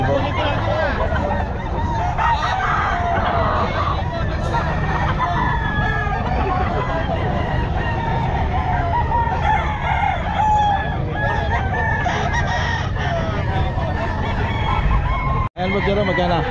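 Gamecock roosters, including a pumpkin sweater, crow repeatedly at a busy pet market, with clucking and chatter from the crowd around them. The crowing is loud and near and carries on throughout.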